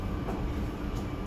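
Set of GE commuter rail cars rolling past at close range, a steady loud rumble and rush of wheels on track with no voices over it.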